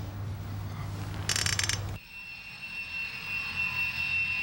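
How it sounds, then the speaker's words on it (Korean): An airplane carrying skydivers takes off in New Zealand, its engine roaring steadily, with a brief rattling burst and an abrupt cut to a quieter, high-pitched cabin drone, and no talking. "비행기 이륙과 동시에"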